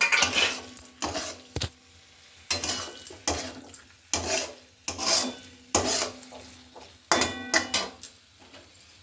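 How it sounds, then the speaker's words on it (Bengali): Fried paneer stirred into sautéed spice masala in a pan, repeated scraping and rasping strokes of a spatula against the pan with faint sizzling between them, close and rhythmic, no voices. "এবার যে ফ্রাই করা পনির আছে সেগুলো এটার মধ্যে দিয়ে দেবো"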